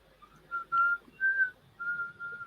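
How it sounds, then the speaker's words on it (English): Someone whistles a short, quiet tune of several sustained high notes with brief pauses between them, close by. "Don't whistle."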